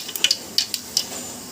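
Mustard, cumin and fenugreek seeds splutter in hot oil, making a handful of sharp, close pops spread irregularly over a faint, steady sizzle.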